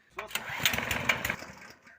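A homemade petrol generator engine runs steadily with a buzzing, mower-like drone, fairly close and moderately loud, while someone talks over it.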